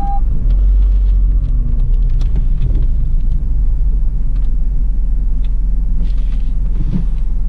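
Heard from inside, a car is driven slowly and brought to a stop behind a parked vehicle, producing a loud, steady low rumble with faint mechanical ticks.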